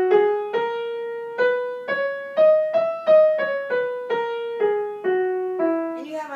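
A piano plays the Polish Podolian mode scale, about a dozen separate single notes struck one at a time in a steady, moderate rhythm, each ringing clearly and close before the next note.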